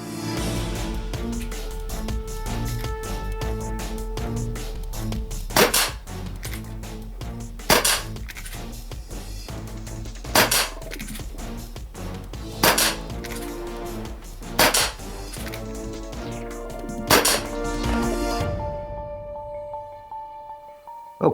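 A Colt SAA Peacemaker CO2 airgun revolver fired offhand, six sharp distinct pops spaced a couple of seconds apart over a steady background hum, ending in quiet.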